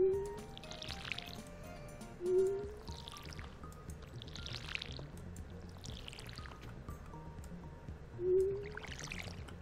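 Watering crops with a watering can in modded Stardew Valley, a repeated game sound effect of pouring, splashing water, several short bursts spaced a couple of seconds apart, with small chiming tones between them.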